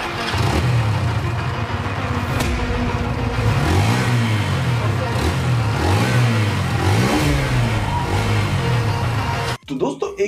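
A Hero Xtreme 160R 4V motorcycle's exhaust note sounds up close and loud, rising and falling through repeated revs over a steady idle, with someone talking throughout.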